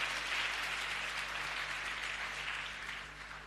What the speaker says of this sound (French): Et puis nous donnons des acclamations.